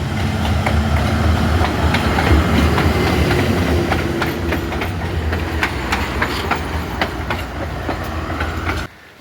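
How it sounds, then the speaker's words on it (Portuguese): A train rolls past on the railway line to Machu Picchu, loud and close, with rumbling wheels and repeated clickety-clack rail joints before it abruptly cuts off at the end. "Chegando o trem da alegria."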